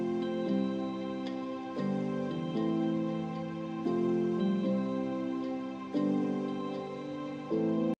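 Layered piano chords sit over soft ambience loops and low drones in a tropical house production, changing every second or two with a steady, gentle pulse, clean and unaccompanied by voice.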